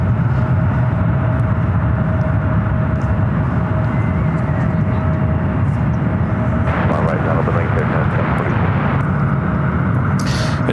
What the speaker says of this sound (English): It's an Airbus A220-300 heading over to one right.